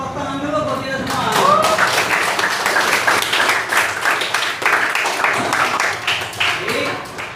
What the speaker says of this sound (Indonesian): kita kasih applause, tepuk tangan dulu buat kita semua